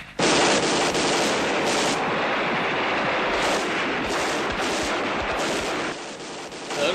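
Sustained, loud gunfire erupts in a drama scene, a dense rattling burst of rapid shots that holds for several seconds before easing slightly near the end.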